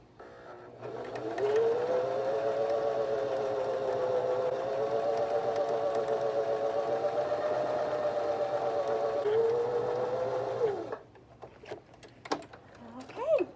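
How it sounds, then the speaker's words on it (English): A home sewing machine stitches a quarter-inch seam on a candy corn stuffed toy, running steadily for about ten seconds with a smooth whirring tone, then stopping and leaving faint handling noises. "I'm going to sew another 1/4 inch seam"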